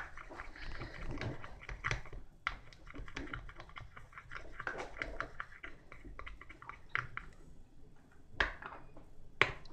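Slime is mixed by hand, giving a continuous run of wet, squishy clicks and pops at an irregular, close-up rhythm, with a few sharper snaps standing out.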